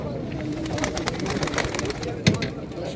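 Pigeons coo at the Edirnekapı pigeon market, a low steady murmur of birds under crowd bustle and nearby voices, with one brief louder knock near the end.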